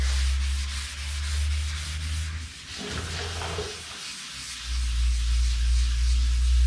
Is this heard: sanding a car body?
yes